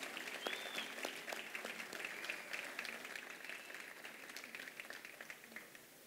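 Audience applause at an evening ceremony proclaiming the festival queen and ladies for the 2024 Festes Majors in Sant Rafael del Riu, a steady wash of many clapping hands at moderate distance lasting throughout, easing slightly toward the end.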